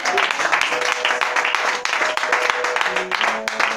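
Sustained applause from a church congregation, dense steady clapping throughout with voices faintly mixed in.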